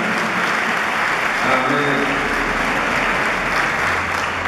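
Loud, steady applause from a church congregation during a Spanish-language mass held in thanksgiving for a priest's birthday, continuous clapping close and full throughout, with a faint voice briefly underneath.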